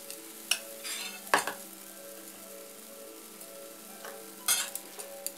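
Wheat flour uttapam batter sizzles on a hot pan, a soft steady frying hiss with a few sharp scrapes and clinks of utensils at intervals, quiet and close with no speech.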